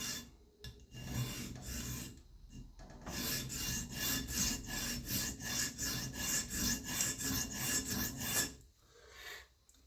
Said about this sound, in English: I'll spray some liquid on my diamond stone